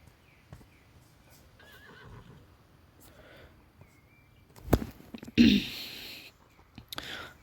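Video game horses whinny once loudly up close, with light hoof clip-clops and soft breathy noises around it, after a stretch of quiet rustling.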